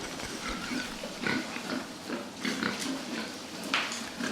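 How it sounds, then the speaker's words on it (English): Pigs snort and grunt in a dense, steady chorus, several short snuffling bursts rising above a continuous rough background. "Now, you can never go wrong with pigs snorting."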